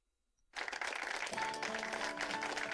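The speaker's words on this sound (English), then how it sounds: "Alright, let's give a round of applause." Applause breaks out suddenly and continues steadily, a dense wash of many hands clapping, with no voices.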